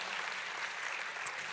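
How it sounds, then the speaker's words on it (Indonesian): A church congregation claps in worship, a steady wash of distant, fairly quiet applause with no voices rising above it. "Kalau mau tepuk tangannya yang dahsyat buat Yesus Tuhan kita"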